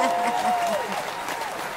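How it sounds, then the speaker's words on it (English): Brief audience applause on a talk show, greeting an award for a guest's beneficial presence on the planet; steady, moderately loud clapping with talking mixed in. "We'll do a little applause on that."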